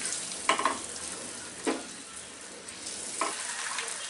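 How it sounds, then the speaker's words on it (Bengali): Eggs frying in masala in a pan: a soft, low sizzle runs throughout, broken by a few brief scraping bursts from stirring, fairly quiet and with no talk. "ডিমগুলাকে সুন্দর করে ভেজে নিতে হবে"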